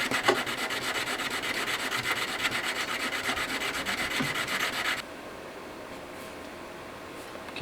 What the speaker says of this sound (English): How about a little bit of gun oil? It's probably a dumb move, but it's okay. Just polishing up the surface.